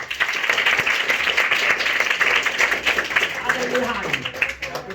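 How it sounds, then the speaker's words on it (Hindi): Audience clapping at a rationalist talk in Surat, a dense steady patter of many hands held for several seconds, with a voice speaking over it toward the end. "बहुत अच्छी बात, ताली बजाइए"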